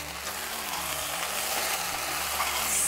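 A medley of peppers hisses in a hot pan as it goes in, a steady, soft sizzle with faint scraping and a low hum underneath, no voices.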